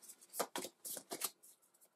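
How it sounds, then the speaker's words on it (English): Playing cards from the Worldbreakers card game are shuffled back into a deck: a handful of quick, papery riffle-and-slide bursts in an uneven rhythm, close and fairly quiet, with no talking. "we'll shuffle these two back into our deck"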